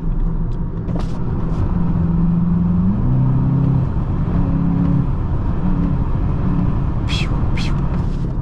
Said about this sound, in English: You can also hear the turbo below, like, if you listen to it closely.